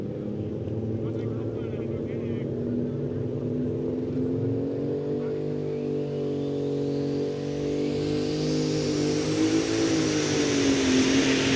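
A competition pulling tractor roars at a loud, sustained pitch during a tractor pulling run at the Edewecht Euro Cup, its tone rising as it accelerates down the track, with an announcer talking over it.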